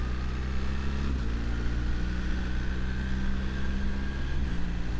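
BMW motorcycle with Automated Shift Assistant pulling away and shifting up through its gears, a steady droning engine with pitch drops at each quick gearchange, heard continuously and fairly loud.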